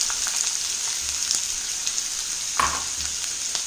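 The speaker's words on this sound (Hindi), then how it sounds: "प्याज को 1 मिनट के लिए हाई हीट पर भून लेंगे।" Onions sizzling steadily in hot oil in a kadhai over high heat on a gas stove, a continuous bright crackle with a few soft stirring scrapes and one louder burst near the end, with no voices.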